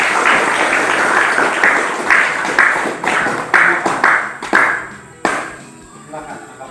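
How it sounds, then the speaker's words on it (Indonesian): Classroom applause after a student group's presentation, several hands clapping together at once, then breaking into a few separate bursts that fade out toward the end. "Tepuk tangan."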